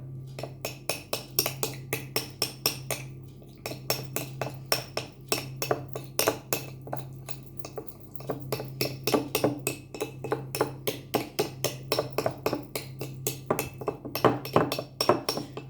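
Rapid, steady clinking and tapping of a utensil against a small bowl while mashing rice flour into a thick pudding-like hand-feeding formula for baby birds, close and continuous with no talking.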